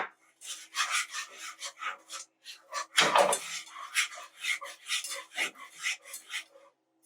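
A whisk beats candied yam sauce with spices in a bowl, giving quick rhythmic scraping strokes in short bursts, close up, with one louder clank partway through.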